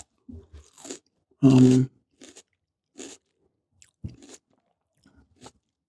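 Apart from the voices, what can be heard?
biting and crunching a raw red pepper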